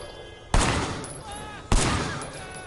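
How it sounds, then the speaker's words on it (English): Gunshots from the open-world video game Sleeping Dogs: two sharp, loud shots about a second apart, each trailing off in a long decaying echo over a faint background hum. "Took 4 shots in the head to take her down."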